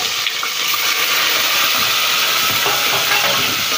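Meat dropped into hot oil in an Egyptian home kitchen sizzles and crackles loudly and steadily from start to finish, a close, continuous hiss with no voices over it.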